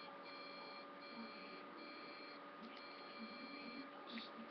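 A bootleg Growl phone plays a short electronic jingle of steady beeping tones after a button press, close and continuous over faint background hiss.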